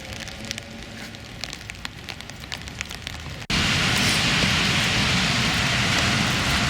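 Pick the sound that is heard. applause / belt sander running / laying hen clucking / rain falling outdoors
rain falling outdoors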